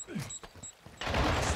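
Sustained gunfire from the video game Call of Duty: Modern Warfare II on the Breenbergh Hotel map, opening with scattered shots and a brief voice. It then breaks into a loud, dense burst of rapid fire filling the final half-second.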